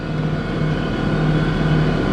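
A 1981 Massey Ferguson four-wheel-drive tractor running, a steady low diesel drone with a constant hum, heard from inside or close by, loud and unbroken.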